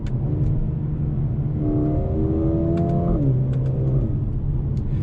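A 2020 Mercedes-Benz CLA35 AMG in Sport Plus mode revs up loudly, its exhaust note rising in pitch through one acceleration, then dropping back, with a few sharp clicks on top.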